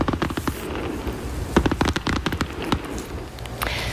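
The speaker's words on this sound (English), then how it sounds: "Calgarians enjoyed a terrific fireworks display last night" Canada Day fireworks launched from Stampede Park in Calgary crackle and pop in quick irregular bursts, sharp reports layered over a dense rumbling background.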